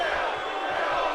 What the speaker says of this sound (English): You can hear this crowd is torn because Owens does have his fair share of supporters in the audience.